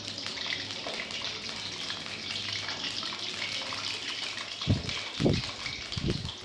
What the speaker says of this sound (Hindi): तो ये देखें, ये फ्राई हो रहा है।